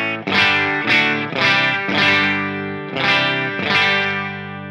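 Electric guitar played through a Line 6 Helix modelling an Orange Rockerverb 100 MkIII amp with the master turned up: loud, distorted chords struck about five times in an even rhythm, each ringing with sustained, gain-heavy overtones.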